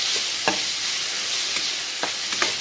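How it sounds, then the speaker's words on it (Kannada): Chopped tomato is stirred into softened onion in a pan for a Muslim-style chicken fry, giving a steady close sizzle broken by a few soft scraping strokes of the spoon. "ಒಂದು ಟೊಮೆಟೊನ ಕಟ್ ಮಾಡಿ ಹಾಕಿಕೊಡ್ತೀನಿ ಹಾಕಿ ಒಳ್ಳೆಗೆ ಮಿಕ್ಸ್ ಮಾಡಿ"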